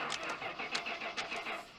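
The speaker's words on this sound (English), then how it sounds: "The engine won't turn over." A car engine cranks over and over in a film scene without catching, its starter whirring in a steady, rapid rhythm of repeated bursts, close and fairly loud.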